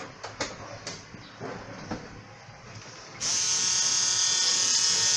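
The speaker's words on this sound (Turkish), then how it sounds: "Benzin filtresi genelde dolduysa zaten öyle zızık diye ses çıkartır" Buzzing whine from a car fuel pump struggling against a clogged fuel filter, a steady electric drone that starts abruptly partway through after some quiet clicks and knocks, then holds loud and constant to the end.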